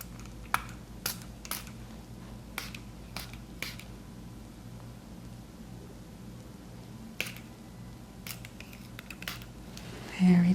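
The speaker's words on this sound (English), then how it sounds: "in this third tincture, I'm going to just hold it away and spray." Hair tincture sprayed from a small spray bottle during a scalp treatment, a series of sharp, crisp spritzes in an irregular rhythm, close and clear over a quiet background, with no talking.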